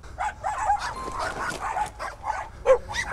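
Dogs at a dog keeper's home give short yips and barks in a scattered, busy pattern, fairly close, with a voice occasionally mixed in.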